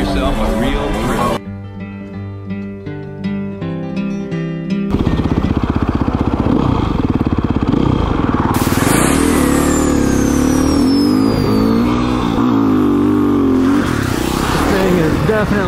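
A motorcycle engine starting and revving hard in Emmett, Idaho, loud throaty rising and falling revs after an initial stretch of music-like tones, close and continuous.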